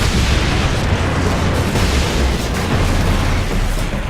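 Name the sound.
rocket explosions in Warhammer 40,000: Space Marine video game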